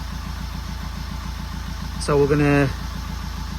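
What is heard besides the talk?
Fiat 500 engine idling after finishing DPF regeneration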